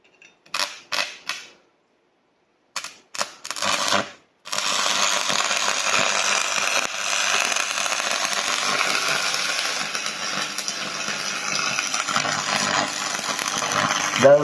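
An improvised arc weld on iron, made by attaching an electrode without a welding machine. A few sharp crackling bursts come first, then a loud, continuous sizzling buzz of the arc that runs steadily for about ten seconds, close up.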